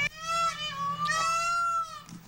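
A peacock gives a loud, drawn-out wailing call, like a high nasal meow that rises and falls over about two seconds, heard clearly outdoors over a low background hum.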